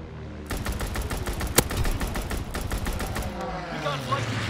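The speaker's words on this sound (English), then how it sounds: "Fighter pilot inbound. Strafing the target." Rapid strafing gunfire from a fighter plane in the World War II shooter Call of Duty: WWII, a sustained burst of loud machine-gun fire with one sharp crack midway, fading into engine roar and battlefield noise.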